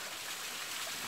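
Water from a mountain stream rushes and burbles as a container is dipped in to fill it, a short continuous wash of flowing water close by.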